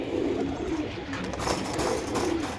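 Pakistani teddy racing pigeons coo in low, rolling calls, repeated a few times against a constant noisy background.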